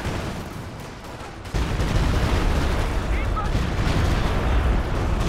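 Artillery barrage in Company of Heroes 2, a World War II strategy game, during an urban fight: a dense, continuous rumble of shell blasts that jumps suddenly louder partway through and stays heavy to the end, with no one talking.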